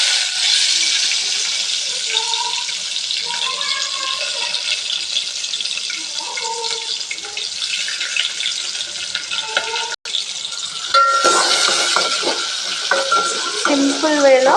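Green chillies and onion hit hot oil for tempering as a tomato egg curry begins, giving a loud, close, continuous sizzle with stirring that grows busier near the end, and no talking.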